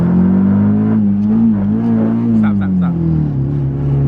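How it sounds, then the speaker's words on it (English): A Honda B20 VTEC engine revs in first gear, giving a loud, sustained drone whose pitch rises and falls through the rev, with a voice briefly talking over it. "Just rev it up first gear."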